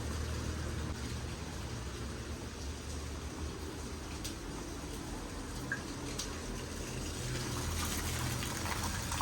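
Water gushes in through a pipe and fills up, a continuous close splashing flow with faint trickles and a few bright drips over a low steady rumble, without speech.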